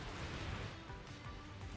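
An explosion in a Blox Fruits video game, fought one on one, produces a dense, sustained blast of rumbling noise that stays loud and rough throughout without any break.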